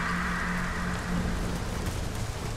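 Steady rain hisses across the scene in the video game Nioh, a dense, even wash of falling drops with a low musical drone running beneath it.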